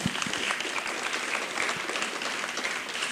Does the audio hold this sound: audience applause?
yes